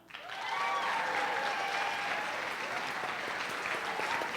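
Audience applause in a hall welcoming a guest onto a television-ministry event stage, a steady full wash of many hands clapping that rises quickly and holds loud throughout.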